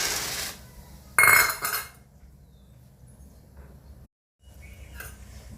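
Peanuts being dry roasted and stirred in a pan while making chivda, a sharp metallic clatter of the spoon against the pan early on, then a low faint rustle of nuts.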